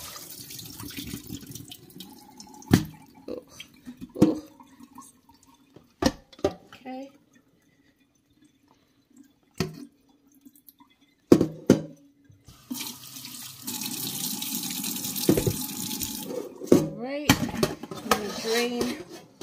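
Tap water runs into a kitchen sink as raw oxtail is rinsed for Jamaican oxtail, with sharp clatters of meat, dishes and utensils knocking in the basin and a steady gush of water toward the end.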